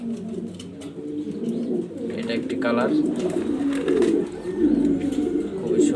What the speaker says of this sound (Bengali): নর একটা মাদি দুইটাই রানিং শাটিন কবুতর